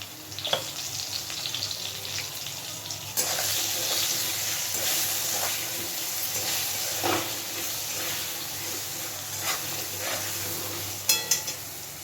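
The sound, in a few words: potatoes frying with salt and turmeric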